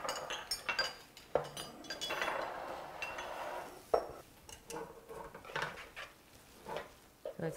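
Ceramic bowls clink and clatter on a kitchen counter as they are taken out for serving jjappaguri, Korean instant noodles, in a string of light knocks and chinks at close range.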